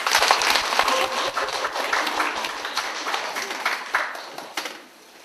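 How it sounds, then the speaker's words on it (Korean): Audience applause welcoming a lecturer at a local history talk, a fairly close patter of claps from a small gathering that tapers and stops near the end. "모두 박수로 심 학예사님을 환영해 주기 바랍니다."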